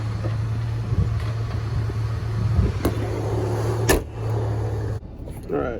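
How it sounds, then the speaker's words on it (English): A Ford V6 Mustang engine idles steadily after a restart, a low constant hum with a few clunks and a hood closing, heard close-up. "I just went ahead and started the car, and it is idling pretty normal"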